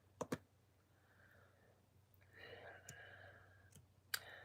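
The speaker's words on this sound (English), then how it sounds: "I'm going to click on that article." Computer mouse clicked while opening an online article: a few sharp, close clicks scattered across a quiet room, with faint background murmur and soft rustling in between.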